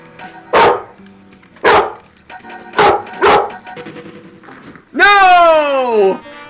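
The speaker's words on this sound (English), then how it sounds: "That makes you bark." A cartoon dog barks in the video game Voodoo Vince after eating an apple: four loud, sharp barks spaced about a second apart, then a longer rising-and-falling howl-like yelp at the end.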